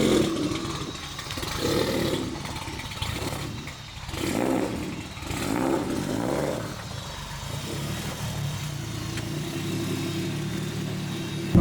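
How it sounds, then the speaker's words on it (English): A BMW car is pulled out with a steady, close engine rumble that swells and eases a few times, heard alone without talk. "He's gonna pull the car out now."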